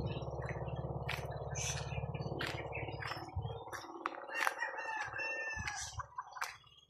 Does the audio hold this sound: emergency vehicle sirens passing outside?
no